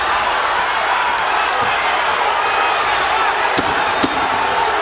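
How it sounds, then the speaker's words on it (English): Boxing crowd cheering for Rocky Juarez during his fight with Zahir Raheem, a loud continuous roar of arena noise with a few sharp slaps or thuds of punches cutting through. "Crowd cheering for their guy, Rocky Juarez, as he gets inside"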